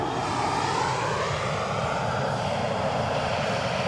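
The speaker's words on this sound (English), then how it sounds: "We got an EasyJet just on our way in now." An EasyJet airliner arriving at Edinburgh Airport produces a continuous, loud jet engine roar with a slowly shifting whine, heard alone without talk.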